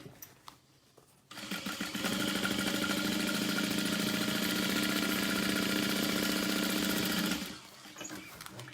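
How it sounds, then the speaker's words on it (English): A sewing machine stitches a 1/4 inch seam along the bottom edge of an all-vinyl tote, a steady, loud, close mechanical whir that runs for about six seconds before stopping, with quiet handling sounds around it. "we're going to sew along the bottom edge at a 1/4 inch seam allowance"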